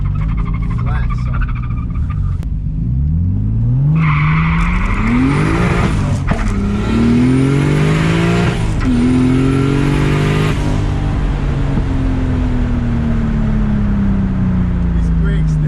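A turbocharged BMW E30 with an M52 engine launches hard on a street, its engine note rising sharply through several gear changes before easing off under braking, loud inside the cabin with a voice talking.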